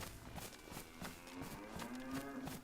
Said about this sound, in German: Das ist eine Kuh!